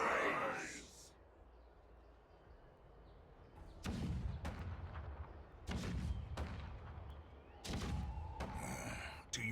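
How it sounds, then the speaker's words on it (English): Cannon fire rumbles in the video game Honkai Star Rail as several deep, booming blasts about two seconds apart, each trailing into a low roar, after a quieter stretch. "The rumble of the cannons."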